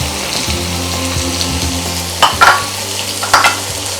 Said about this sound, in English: with the remaining oil and chorizo, all the lovely chorizo oil, I'm gonna pop in the diced onion